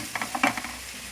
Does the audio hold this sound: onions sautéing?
yes